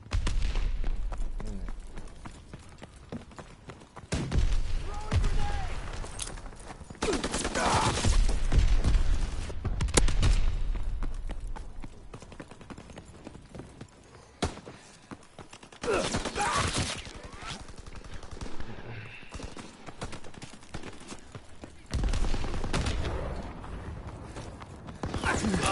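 Call of Duty WW2 gameplay with repeated sharp gunshots and heavy artillery-style blasts in irregular bursts, loud and close, with a few voices talking at times.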